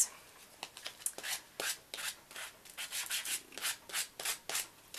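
Sandpaper roughing up a painted wooden candlestick to distress it, a close series of short rhythmic rubbing strokes, quiet and alone.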